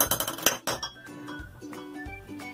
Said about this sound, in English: Here are some glass marbles.